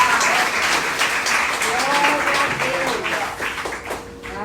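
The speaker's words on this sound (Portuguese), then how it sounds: "Pode dar uma salva de palmas ao Senhor." Church congregation clapping in praise during a service, steady mass applause throughout with a voice speaking over part of it.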